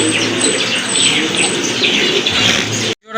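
Lahori pigeons coo close by, several low murmuring calls overlapping steadily, with a few faint chirps, before cutting off abruptly near the end.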